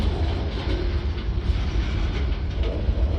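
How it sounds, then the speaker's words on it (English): A freight train hauled by old EMD diesel locomotives rumbles steadily past close by at a road crossing, a continuous heavy roll with faint rhythmic clatter from the wheels, no voices. "a train moving back and forth across the crossing"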